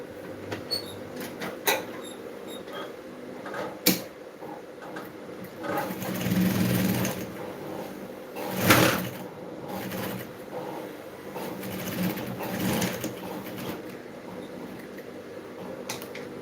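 Home sewing machine stitching a dart in fabric, running in uneven bursts with whirring stretches and clicks between pauses, close and without talk.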